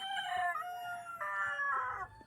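A rooster crows loudly and close by, giving two long, drawn-out calls one after the other.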